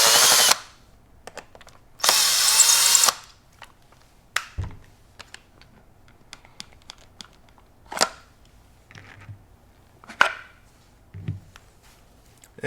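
Power drill backing Phillips head screws out of a Benelli Lupo bolt-action rifle stock: two loud whirring bursts, each lasting under a second, with clicks and handling clatter of parts in between and no talk.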